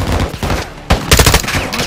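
Loud bursts of automatic return gunfire in Call of Duty Modern Warfare 2 crackle close by, a rapid volley, a short lull, then another heavy burst.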